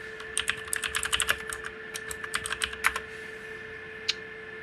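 Someone types a networking command on a computer keyboard while setting up a basic Ethernet connection. Quick, close bursts of keystrokes are followed by a single later key press, all over a steady electrical hum.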